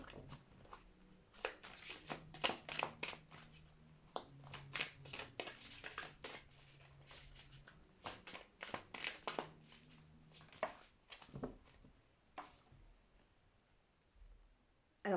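Oracle cards are shuffled by hand and drawn during a full-moon card reading. Brisk, quiet riffling and flicking comes in repeated bursts over about fifteen seconds, with a murmuring voice in the background.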